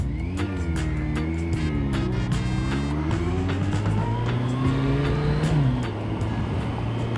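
A 2016 Kawasaki Concourse 14 motorcycle underway, its engine loud and close with rising and falling revs through gear changes, the tone climbing and dropping several times over steady road and wind noise.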